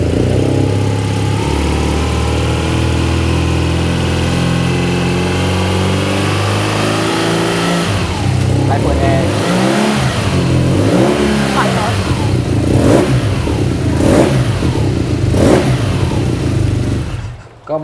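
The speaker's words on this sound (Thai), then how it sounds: "ลองฟังท่อเดิมๆนะครับ" A 1200cc flat-twin motorcycle engine with its stock exhaust idles with a deep throb, then is blipped in several sharp revs close to the listener, with someone talking over it.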